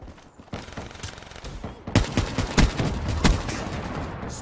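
Rapid gunfire in Call of Duty: Black Ops 3, with loud, close shots cracking in quick irregular bursts that build in intensity toward the middle of the exchange.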